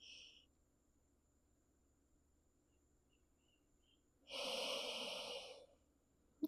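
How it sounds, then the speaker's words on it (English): One slow, deep yoga breath is drawn in clearly over about a second, a soft airy rush close to the microphone after a long quiet stretch. "Just keep breathing, filling the back body, filling the back side of the heart and lungs."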